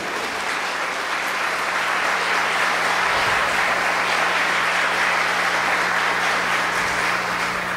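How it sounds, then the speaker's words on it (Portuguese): A church congregation applauding during a worship service, a full steady roar of clapping from many hands, continuous and even, over a low background hum. "Aplauda o Senhor Jesus."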